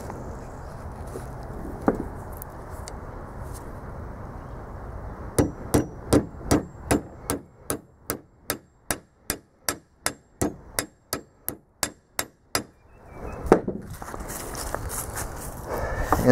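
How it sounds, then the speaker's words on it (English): A hammer strikes a homemade battery cable terminal to flatten it, about sixteen sharp metallic blows in a fast, even rhythm, close and loud. "Next thing I'm going to do is I'm going to flatten this out."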